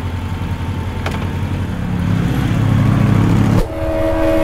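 A motorcycle engine revs up loud and close, its drone climbing steadily before dropping off sharply and settling back, with no talking.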